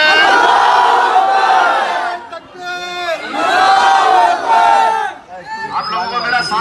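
A rally crowd at an independent candidate's election campaign in Byculla, Mumbai shouts back in unison, answering the Naara-e-Takbeer slogan in loud chanted waves of massed voices, with brief pauses between the responses.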